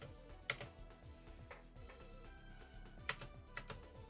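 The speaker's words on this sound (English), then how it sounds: "Press the keyboard too hard." Soft, irregular clicking of a computer keyboard being pressed hard, a few distinct keystrokes standing out over continuous game music and background sound during a mech game session.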